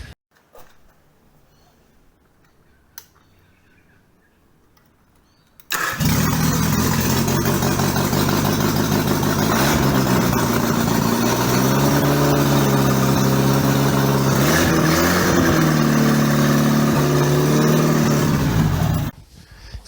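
After a quiet start, a Mini Moke engine with no exhaust or muffler fires up and runs loudly at close range, its raw, rough drone holding steady for about thirteen seconds before cutting off.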